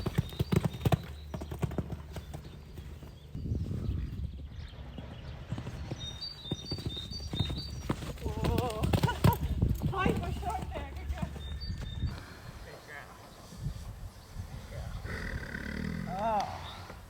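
An 8-year-old mare's hooves clip-clop in a steady rhythm for a long stretch, close and clear, with a person talking over them at times.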